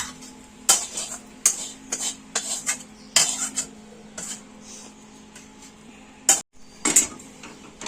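A pot of ingredients being mixed with a metal spoon, giving irregular clinks and scrapes against the pot in uneven bursts, fairly close, with no talking.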